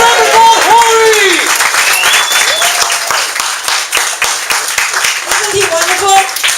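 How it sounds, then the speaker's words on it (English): Audience applause and cheering fill the room, steady and loud, with excited voices and whoops rising over the clapping. "Give it up a round of applause, Corey!"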